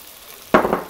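Gluten-free gnocchi hit hot canola oil in a pan, a sudden loud sizzle bursting in partway through and carrying on with a crackling, fluctuating hiss after a quiet start.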